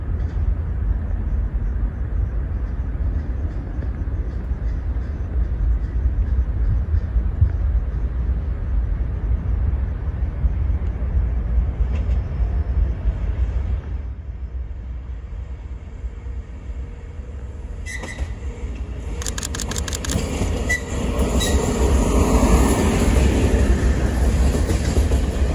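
An M62 "Samu" diesel locomotive train approaches and passes at a station platform, a loud steady rumble with rail clatter building and shifting as it goes by, no talking.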